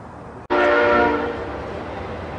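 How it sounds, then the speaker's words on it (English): A train horn sounds suddenly and holds a loud, steady blast that slowly fades over continuous rumbling rail noise. "It's good for the video to hear that train noise in the background."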